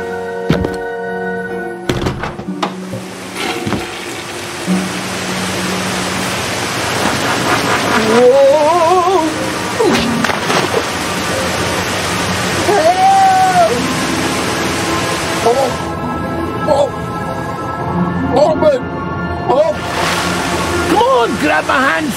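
A toilet flushes in a HYPERCHARGE: Unboxed cutscene, a steady rush of swirling water lasting many seconds, with voices talking over it.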